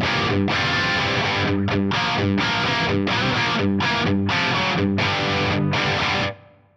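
Distorted electric guitar through an amp with plate reverb, chugging rock rhythm chords in a steady stop-start pattern, loud and alone, ringing out briefly at the end.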